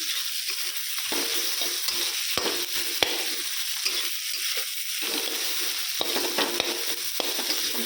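Steady, dense sizzle of food frying in a pan, with occasional sharp clicks and scrapes from stirring throughout.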